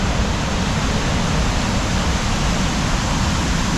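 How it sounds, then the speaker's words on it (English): A large waterfall roars at full force amid spring flooding in a wilderness canoe area, a dense, steady rush of water that fills every moment without a break, close and loud. "This is a really big waterfall."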